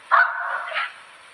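A small dog gives a single sharp bark with a short trailing second yelp, fairly close and alone against a quiet background.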